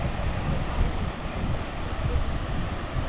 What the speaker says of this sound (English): I hear the waves of the Pacific.